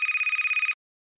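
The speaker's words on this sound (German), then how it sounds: "Oh, mein Handy klingelt." A mobile phone in the Toca Life World game rings with a bright electronic trill, rapidly pulsing for under a second before cutting to silence.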